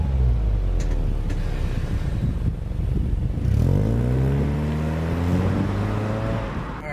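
A car fitted with a Magnaflow performance muffler rumbles, then accelerates hard from a stop, its exhaust note rising steadily through the gears, loud and close, before easing off.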